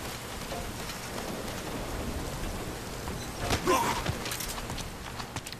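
Rain falls steadily on surfaces in the video game Metal Gear Solid V Ground Zeroes, a dense, even hiss throughout, with a brief louder burst of splashes and clatter midway.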